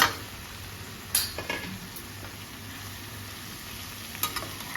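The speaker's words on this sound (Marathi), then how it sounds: "आता आपण त्याच्यामध्ये जवळा टाकून घेऊया आणि गॅस बारीक करायची" Dried shrimp (javla) stirred in a pan over low heat, with a soft steady sizzle, a few sharp clinks of a spoon against the pan, and light scraping throughout.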